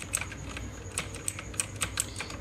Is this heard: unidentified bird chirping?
no